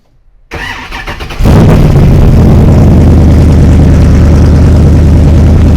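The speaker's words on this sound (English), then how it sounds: "But this is the obligatory cold startup video." A Chevy Cheetah with an LS7 V8 cold-starts: brief starter cranking, then the engine catches with a sudden loud burst and settles into a heavy, rumbling high idle close by.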